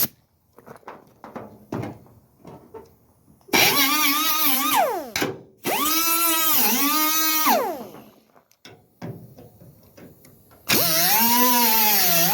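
A power tool trims sheet metal on the pillar of a 1956 Chevy being converted from a 4-door to a 2-door, in three loud, sustained whining runs whose pitch sags and rises under load, with quieter knocks and clatter between them.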